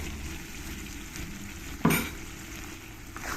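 A paste of coconut, cashew and poppy seed is stirred into sizzling spices in a pan, steady frying hiss with a sharp scrape of the spoon near the middle.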